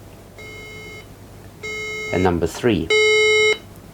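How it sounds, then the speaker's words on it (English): Electronic beeps from a DIY Arduino-based fire alarm sound in three separate bursts, each a steady high tone, with a short spoken phrase between the second and third. "So I'm going to trigger just one of the fire alarms."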